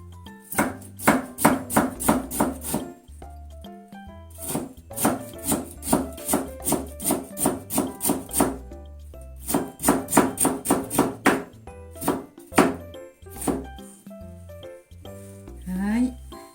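A knife chops skin-on cucumber on a cutting board in quick rhythmic bursts of sharp, close taps, separated by short pauses, with a brief spoken remark near the end.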